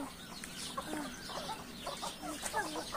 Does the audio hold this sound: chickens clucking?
yes